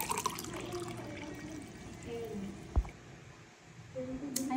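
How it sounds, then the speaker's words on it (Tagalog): Fresh buko (young coconut) juice is poured into a container outdoors, a soft continuous liquid splashing and trickling with a small thud partway through. "Buhos tayo dito guys ng ating iinumin."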